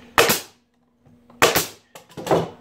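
A nail gun drives nails into wooden beehive migratory covers, three loud, close, sharp bangs spaced about a second apart, each with a short decaying tail.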